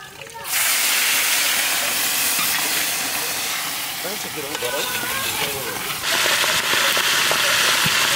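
Chopped onion and whole garam masala fry in oil in a large pot for a village-scale chicken leg korma, giving a loud, steady sizzling hiss that starts abruptly and runs without pause.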